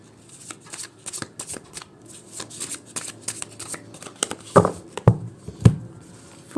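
Tarot cards are shuffled by hand in quick, close riffles and taps, with a few sharper slaps toward the end and no talking.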